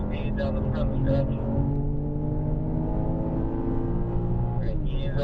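BMW M4 accelerating hard down a race track's front stretch, a loud rising engine drone heard from inside the car, steady and continuous with no talk.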